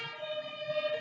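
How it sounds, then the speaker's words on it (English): An ambulance siren passing, a steady electronic wail with a strong, even tone, heard at moderate distance and fairly faint, alone without talk. "There's another ambulance."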